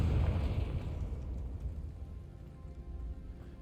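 A Confringo spell in the Hogwarts Legacy video game bursts into a single loud fiery explosion that crackles and rumbles, then decays into a fading, hissing rumble.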